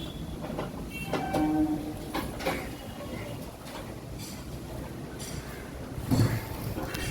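A Kolkata underwater metro train running between Esplanade and Howrah rumbles steadily from inside the carriage, with rattles and brief tonal squeals. A faint voice can be heard in the background.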